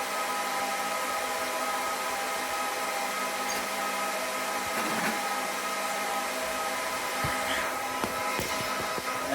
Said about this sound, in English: Go into the noisy room of servers.